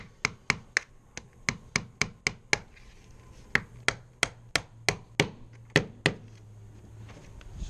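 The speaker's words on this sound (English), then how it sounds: "Usually use a couple nails up on the flange here just to tack them in place" Nails being hammered to tack the ends of a car door sill panel onto the flange, a quick run of sharp metallic taps in uneven bursts, close and clear, with a short pause in the middle.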